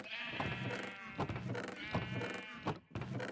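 Sheep in the Minecraft video game bleat repeatedly, several harmonic bleats following one another at close range, mixed with game sounds.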